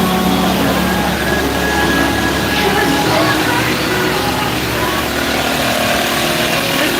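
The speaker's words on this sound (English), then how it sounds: "high lift truck here doing something." A high lift truck works nearby on a crowded street in Nassau, Bahamas, giving a loud, steady engine and machinery rumble that fills the whole scene, with faint voices mixed into the noise.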